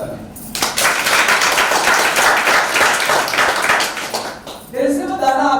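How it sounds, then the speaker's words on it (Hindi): An audience bursts into loud, sustained applause for about four seconds, then a voice speaks again. "चलिए, वेरी गुड, जोरदार तालियां।"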